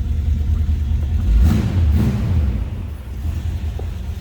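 A 1963 Chevrolet Nova engine idles nearby with a deep, steady rumble, rising briefly as it revs a little, no voices.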